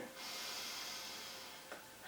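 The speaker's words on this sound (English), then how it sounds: "We'll take a deep breath in through the nose." A slow, deep inhale through the nose during a yoga flow, a soft steady airy hiss lasting most of the moment before a faint catch near the end, close and quiet with no talking.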